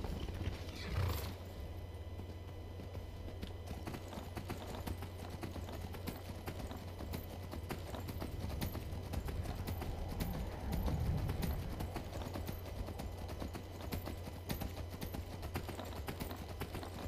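Horse hooves clip-clop steadily across the ground in the Skyrim video game, a close, continuous trotting rhythm with occasional whinnies over a low ambient rumble.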